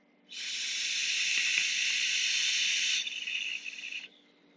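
Air rushes steadily through the wide-open airflow of a Requiem RDA vape atomizer in a close, loud hiss lasting about four seconds, its tone shifting slightly near the end before cutting off.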